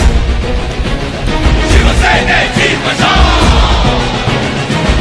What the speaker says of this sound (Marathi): आपल्याला पाहिजे का जोरदार टाळ्या वाजून स्वागत करायचे